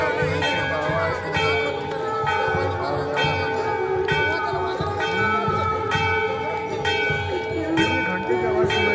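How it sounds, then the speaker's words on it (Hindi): Temple bells clang repeatedly during the aarti at Kedarnath, a steady rhythmic ringing that carries over the murmur of a crowd and nearby voices. "घंटे की आवाज़ सुनाई देती है"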